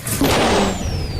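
A car engine running badly sputters and revs roughly in a short, uneven burst of medium loudness, with no talking.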